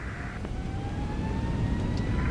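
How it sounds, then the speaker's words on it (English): A steady engine roar from an Airbus A340-600 in a flight simulator, a continuous broadband rumble with faint rising whine tones, sustained and fairly loud throughout. "Hopefully you can hear the airplane a bit."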